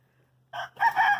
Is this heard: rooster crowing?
yes